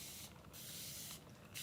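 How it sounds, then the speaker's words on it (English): Spray bottle spritzing water over alcohol inks, two quiet, close hissing bursts about a second apart. "And then I'm going to spray it"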